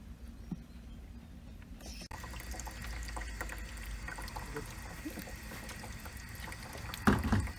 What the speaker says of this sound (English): I had to let this water hose run a little bit because it was scalding hot water coming out of here